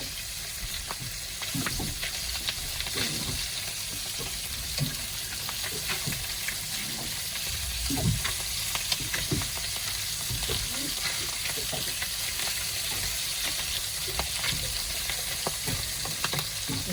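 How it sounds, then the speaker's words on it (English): Steady, close sizzling and crackling of fish skin frying in a hot pan, continuous throughout with small pops and no talking. "and leave that frying in the pan"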